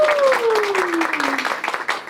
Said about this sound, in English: Let's have a round of applause for our judges.